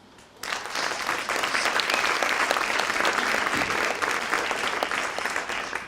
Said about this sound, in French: vous demande de vous applaudir et de vous faire une ovation pour vos actions quotidiennes